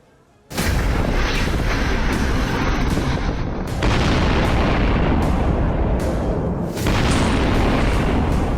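Missile strikes on a Ukrainian city in wartime: after a quiet half-second, a loud, continuous roaring rumble takes over and holds with slight shifts to the end.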